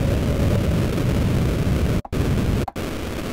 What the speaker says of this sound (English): Then we have rocket thrusters.